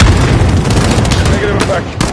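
Missile launch and explosions amid heavy gunfire in the video game Call of Duty: Modern Warfare, a loud dense roar of booms and shooting with shouted voices over it.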